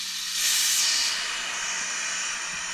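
Steady loud hiss of air escaping through the red release valve of a Vevor 5T airbag jack as it lowers, swelling briefly then holding level with no talking.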